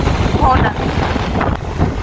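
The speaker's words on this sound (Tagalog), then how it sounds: "So ang lakas-lakas kasi ng hangin." Steady, loud wind buffeting the microphone outdoors at East Beach, Shoeburyness, Essex, with a continuous low rumble and faint water sounds underneath.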